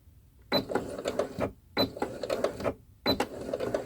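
A home sewing machine back stitching on fabric, three short bursts of rapid mechanical rattling separated by brief pauses, close and fairly loud with no talk.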